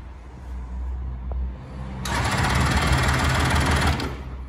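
A 1978 Suzuki 750 GT two-stroke three-cylinder motorcycle idles with a low, uneven thrum, then briefly revs up into a louder, buzzy rasp before settling back down, heard close by with no talking.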